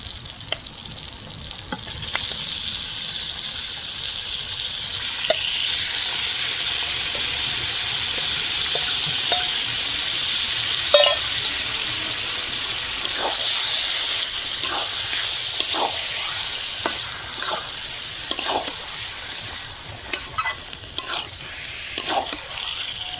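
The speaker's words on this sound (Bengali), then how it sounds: "দেখুন মশলা কষা হয়ে গেছে আধ ঘন্টা হয়ে গেছে মাংস দিয়ে দেবো" Mutton is fried with spice paste in a pan for Bengali mutton kosha. A continuous close sizzle carries through, broken by repeated scraping stirs and clinks of the spoon against the pan.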